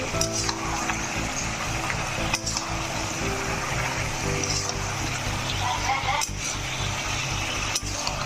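Chicken and potatoes frying in a pan, a continuous sizzle with stirring and scraping of utensils against the pan, steady and close, with some background voices.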